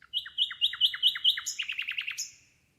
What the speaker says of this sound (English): And Daisy, if you could play the sound of the nightingale